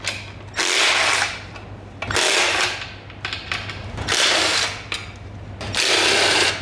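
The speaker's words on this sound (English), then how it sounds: "Let's get the drill." A power drill working on damaged bolts of a Mini Cooper S engine: four loud whirring, ratcheting bursts of a second or so each, separated by short pauses with a low hum underneath.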